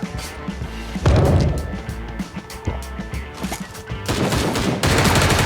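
UMP gunfire in the game Sausage Man, loud, close bursts of rapid shots with sharp impact thwacks, firing in clusters through the clip.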